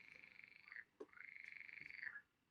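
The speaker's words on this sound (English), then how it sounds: "Oh, the frogs are starting up again." Frogs croak from a pond in two long, steady trilling calls split by a short gap, fairly close and moderately loud, with no voices.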